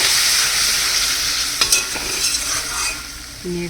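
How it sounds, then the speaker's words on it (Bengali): Crab curry with potatoes, tomato and added water being stirred in a pan, a steady sizzle running throughout with a few scraping utensil knocks near the middle, close and clear with no talking. "জল দিয়ে এটা একটু নেড়ে নিয়ে"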